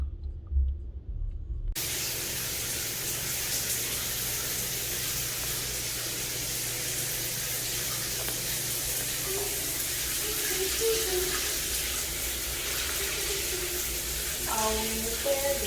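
A shower running in a laundromat stall, a steady hiss of spraying water close by that continues throughout, with faint clatters and a few tonal sounds near the end.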